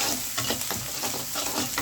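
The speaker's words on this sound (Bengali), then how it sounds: "এখন ভাজা চিংড়ি মাছগুলো দিয়ে দেব। ভাজা পেঁয়াজ রসুনগুলোর ভিতর চিংড়ি মাছগুলো দিয়ে দিলাম। এখন একটু ভেজে নিই।" Prawns frying among already-fried onion and garlic in a pan for a red amaranth greens dish, with a steady close sizzle broken by repeated stirring scrapes throughout.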